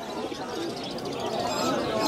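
Pigeons at an open-air pigeon market in Ulberia, Howrah, West Bengal, a busy blend of cooing and chatter under a dense crowd-like wash of sound, steady and fairly loud throughout.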